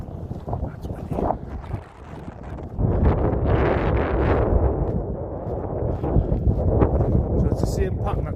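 Heavy wind buffets the microphone in a loud, continuous roar with low rumbling gusts throughout, briefly easing before surging again.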